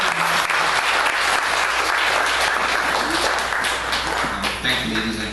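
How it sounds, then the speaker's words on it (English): Audience applause at the close of a formal session honoring an Eswatini delegation, dense and steady clapping from a large crowd throughout, with a few voices faintly audible underneath. "A round of applause for our moderators as well"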